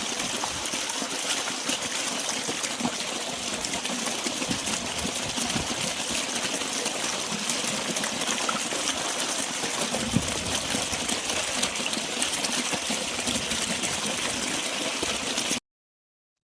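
An electric water pump motor hums steadily in a melon field while water pours and trickles out onto the crop, a constant close wash of sound with no talk, cutting off abruptly at the end.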